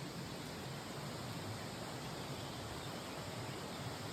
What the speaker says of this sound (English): So we're following a creek pretty much all the way down the mountain.